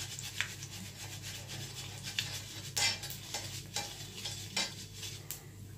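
Panch phoron spices frying in hot oil, a low, soft sizzle under repeated spoon scrapes and stirring knocks against the pan, fairly quiet, no talking.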